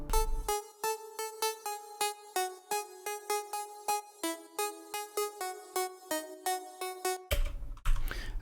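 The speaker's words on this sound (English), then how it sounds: "The final thing I did for this chord pattern was just to add this top line." A plucky synth top line over a progressive house chord pattern, with bright staccato notes in a quick steady rhythm and a fuller burst of sound at the very end.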